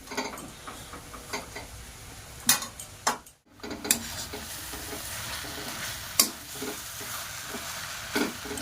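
Grated potatoes for vegetable chop stirred in a pan, with a soft background sizzle under sporadic sharp scrapes and taps of the utensil against the metal.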